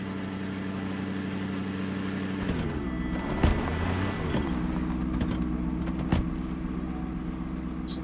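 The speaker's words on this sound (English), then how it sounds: "Sounds like I'm revving the engine." A car engine in the video game Project Zomboid: a steady idling drone that rises briefly in pitch as it revs around the middle, then settles back to a constant hum, with a couple of faint clicks.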